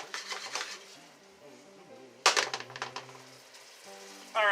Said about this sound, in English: So I like to stir the pasta every once in a while, give it a twist